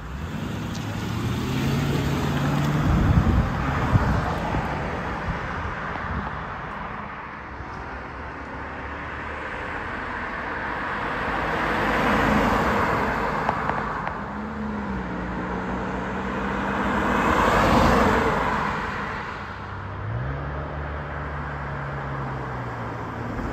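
2006 Mercedes-Benz E500 four-door sedan making flybys on a road, its engine rising and fading as it approaches and passes several times, heard from a distance under general outdoor noise.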